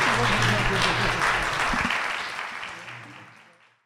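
A lecture audience applauds at the close of a talk, dense clapping that is loud at first and then steadily fades away to silence over a few seconds.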